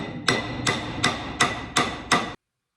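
Six sharp metallic taps of a hammer seating bearings in a 1926 John Deere Model D engine, evenly spaced and close, ringing briefly before a sudden silence.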